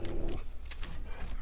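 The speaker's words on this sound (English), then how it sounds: "Oh, I'm hearing a dog." A dog's brief growling bark comes through busy gameplay noise in 7 Days to Die, short and fairly close, with no talking.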